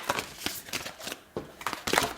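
Tarot cards are shuffled by hand at close range, a series of quick papery riffles and soft slaps in an uneven rhythm, with short gaps between bursts and no talking.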